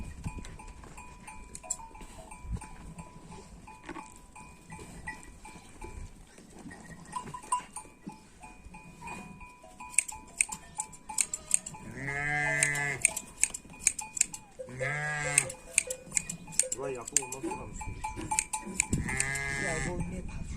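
Sheep bleat loudly in several bursts during shearing, over a clattering, busy background of shuffling and metallic knocks, with scattered bell-like clinks.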